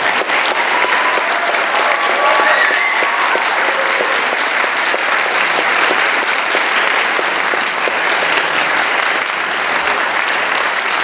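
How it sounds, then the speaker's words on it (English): Audience applause at a talk with actor Julian Glover: a dense, loud, sustained wash of clapping from a large crowd, steady for about eleven seconds, with a few faint voices mixed in. "that deserves a very big round of applause from the audience"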